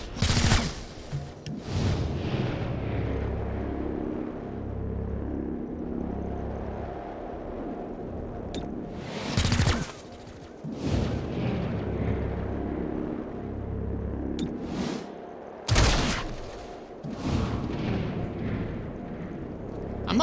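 Squad gunfire during a breach in the video game XCOM Chimera Squad: several loud, separate bursts of shots spaced over rumbling game ambience, each sharp and close.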